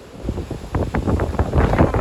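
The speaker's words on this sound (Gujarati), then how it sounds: "આમ તમે મોજા ઉછળે તો જુઓ" Sea waves surge and wash at the coast of Diu under gusting wind that buffets the microphone, making a rough, continuous roar that builds toward the end.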